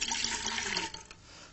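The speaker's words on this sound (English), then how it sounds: "We're going to pour some water inside the cauldron." Water poured into an empty magic trick cauldron, a close splashing gush that runs steadily, then tapers off into a few trickling drips.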